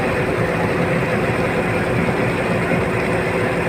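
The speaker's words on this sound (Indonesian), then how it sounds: "Kita tidak mampu untuk mengejar menggunakan mesin Mitsubishi 6D16" Chase boat's Mitsubishi 6D16 diesel engine running steadily at sea during a sandeq sailing race off Manakarra beach, Mamuju, a constant loud low drone with broadband noise and no breaks.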